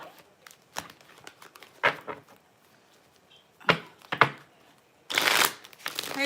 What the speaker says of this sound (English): Let me just shuffle this out.